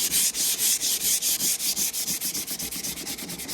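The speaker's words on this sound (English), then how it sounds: "This is 220 grit sandpaper, and we're gonna go with the grain." Sandpaper of 220 grit rubs back and forth along the grain of a wooden radio cabinet in quick, even strokes, about seven per second, close and crisp with no speech.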